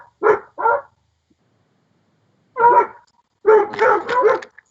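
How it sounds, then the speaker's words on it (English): Dogs bark in short bursts, two quick barks, a pause, then a louder flurry of several barks close by. "Shut up, dogs."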